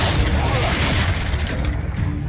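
A heavy magical blast from the Confringo spell in Hogwarts Legacy booms loud and close, a burst of rumbling impact with crackling debris that mixes with a voice.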